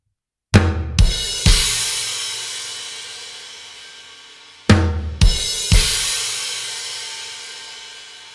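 Drum kit hits from the ending of a song: two clusters of three loud strikes with crash cymbals, each left ringing and slowly decaying, close and solo with no voices.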